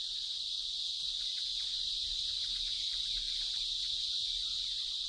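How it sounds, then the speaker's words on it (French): A cicada produces its loud mating song, a continuous high-pitched buzzing drone that holds steady and close without pause, over faint low background rumble. "c'est la cigale qui a le chant nuptial le plus bruyant"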